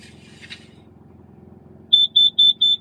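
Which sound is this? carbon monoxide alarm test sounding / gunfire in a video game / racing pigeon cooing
carbon monoxide alarm test sounding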